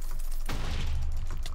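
A baby bacon bomb explodes in the Minecraft Super Smash Mobs mini-game: a single loud, booming blast with a deep rumbling tail that fills the short moment, no voices over it.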